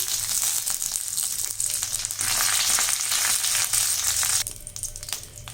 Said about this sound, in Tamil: இப்போ கடுகு பொரிஞ்சிச்சு இதில் வந்து நம்ம ரெண்டு வரமிளகாய் போட்டுடலாம் கருவேப்பிலை போட்டுடலாம்